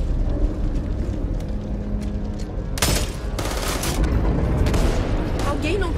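Gunfire in the video game Back 4 Blood, rapid bursts of automatic shots and booms cutting in over a busy background, loud and chaotic, with voices under the shooting.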